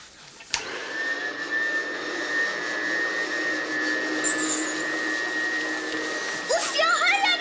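Steady broadband whooshing of a vacuum cleaner sucking crumbs off a floor, running continuously and fairly close, with a higher whine near the end.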